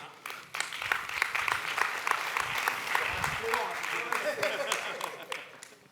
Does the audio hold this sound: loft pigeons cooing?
no